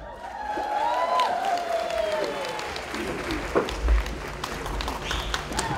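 Warm applause from the audience at an evening celebration held by an Indigenous mission committee, steady and sustained throughout, with a voice and music underneath.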